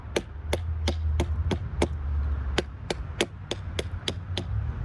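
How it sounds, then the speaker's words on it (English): A Cold Steel Recon Scout knife chops at wood to shape a tent stake point, a dozen sharp crisp thwacks at a steady, slightly irregular pace, close and distinct over a low background hum. "like to see how it would do to do something finer detail, like maybe cut a tent stake"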